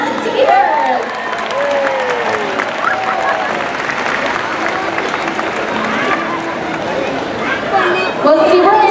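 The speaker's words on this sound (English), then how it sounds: "How about a round of applause for our audience volunteers?" Applause from a stadium crowd at a SeaWorld Orlando killer whale show, a broad sustained roar of clapping and cheering under loud amplified talk and tonal sounds, with a louder swell near the end.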